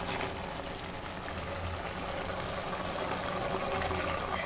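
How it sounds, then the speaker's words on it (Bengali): Rattan greens (bete shak) cooking down in a pan as the water boils off, giving a steady, close sizzling hiss that holds at an even level throughout, with no voices. "দেখুন শাকটা শুকাচ্ছে, জলটা মরে গেলে আমার শাকটা রেডি হয়ে যাবে।"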